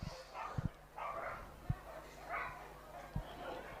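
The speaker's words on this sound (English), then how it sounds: "just having a little bark" A large dog gives a few short, sharp barks during an indoor agility competition run at the International Agility Festival, heard fairly faint under a commentator's continuous talk.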